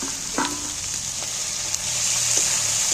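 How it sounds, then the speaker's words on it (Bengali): Ginger paste sizzles in hot oil with goat fat, cooked for a jackfruit curry. The frying hiss runs steady and close throughout, with a few light clinks of a spoon stirring the pan. "আদাটা তেলের মধ্যে দিয়ে এইবার আমি এর সাথে মিশিয়ে নিচ্ছি।"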